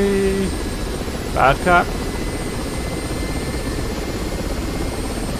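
Helicopter engine and rotors idle in the DCS World flight simulator, a steady whirring drone throughout, with a brief spoken phrase and a short tone over it.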